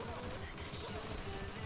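Rapid automatic AK5C rifle gunfire in Fallout 4, a dense continuous stream of shots against combat game noise with a faint voice underneath.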